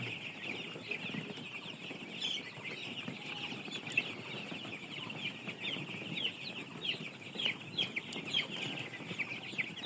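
Six-day-old chicks in a poultry shed keep up a dense, continuous chorus of high peeping and clucking, steady and close throughout with no voices.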